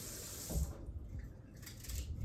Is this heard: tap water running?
yes